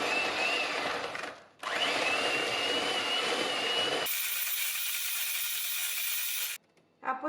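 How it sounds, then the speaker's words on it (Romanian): An electric mixer beats butter, sugar and salt in a large bowl with a loud, steady whir, briefly stopping, then starting again and shifting to a higher, thinner pitch before cutting off. "Într-un vas încăpător punem untul, adăugăm și zahărul, sarea și începem să mixăm."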